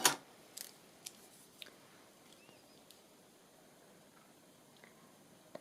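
Scissors snip paper for a ring-bound journal card, a few quiet, close, isolated cuts and faint clicks scattered across a hushed room.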